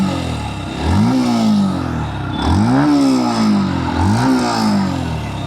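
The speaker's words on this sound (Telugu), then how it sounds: "ఒకసారి ఎగ్జాస్ట్ సౌండ్ వినండి" A Yamaha FZS V4.0 Hybrid motorcycle revs through its exhaust three times in succession, each rising and falling blip heard close and loud over a steady idle, with no talking.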